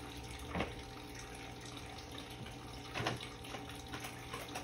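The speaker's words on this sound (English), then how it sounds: "I use water and wash it off." Tap water running steadily while a vase is rinsed clean, a soft continuous splash with a couple of brief louder surges, faint and close, with no voices.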